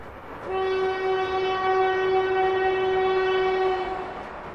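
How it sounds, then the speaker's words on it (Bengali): A train horn blares in one long, loud, steady blast lasting several seconds, with the rumble of the train beneath it. "ট্রেনটা একবার হর্ন বাজিয়ে সবেগে ছুটে যেতে লাগলো"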